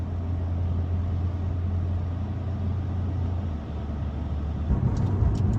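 A Porsche 911 Carrera with a PDK transmission, switched out of sport and manual modes, runs with a steady, subdued engine drone. A low rumble holds evenly and eases slightly near the end without any sharp revving.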